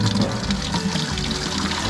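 Water drains and pours steadily out of something being torn down, a continuous close splashing rush that holds at an even level for the whole stretch with no talk over it.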